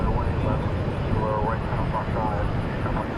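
A FedEx airplane at DFW International Airport gives a steady, fairly loud engine roar with a drone that rises and falls slightly, and no talk is heard.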